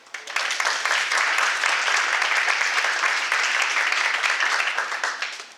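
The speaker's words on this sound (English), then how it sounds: "let's give you a very special round of applause for me" Sustained audience applause at a geography symposium keynote, a dense steady wash of many hands clapping that swells quickly, holds for several seconds and tapers off at the end.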